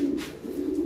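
Silver-coloured Lahori pigeons give a steady, low throaty coo close by, a continuous murmuring drone with no voices over it.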